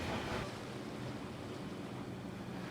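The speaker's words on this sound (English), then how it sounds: "The wind is really quite strong." Strong wind blows at sea around a small rowing boat, a steady, loud, broadband roar that barely changes over the whole stretch, with no voices.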